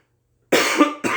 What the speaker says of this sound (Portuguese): me perdoa pela tosse